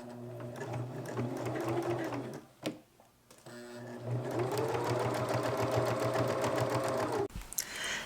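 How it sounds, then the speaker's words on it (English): A sewing machine stitches in the ditch on a fabric basket lining with bias tape, running in a fast, steady whir, stopping briefly, then starting again and humming along before cutting off near the end. "we'll stitch in the ditch to catch the back"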